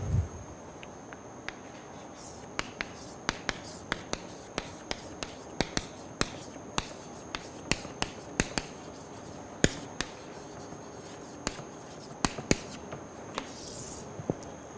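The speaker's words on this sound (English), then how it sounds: "let me write our emblemic formula we have been writing for a few days now" Chalk tapping and scratching on a board as a formula is written during a lecture: irregular sharp clicks scattered over a faint steady hum, close and quiet, with no talking.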